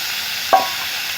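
Washed cut potatoes frying in hot oil in a pan after ridge gourd, a steady close sizzle with one brief knock of a utensil.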